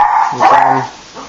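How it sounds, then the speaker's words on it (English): A dog gives a single loud, close bark followed by a softer yip, short and sharp against a quiet room. "my dog's barking"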